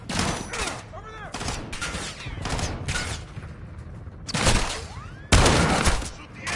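Modern Warfare 2 video game gunfire: loud bursts of automatic weapon fire and single shots during a breach assault on an HQ, with shouted voices mixed among the shooting.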